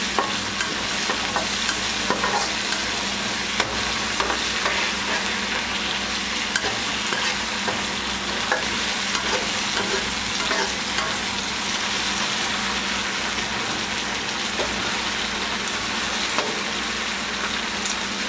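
Eggplant bharta mixture with ginger garlic paste fries and is stirred in a pan, a dense continuous close sizzle with scattered spatula scrapes and taps throughout, no voices.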